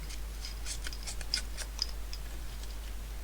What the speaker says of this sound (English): just using my snips down the side of each paper here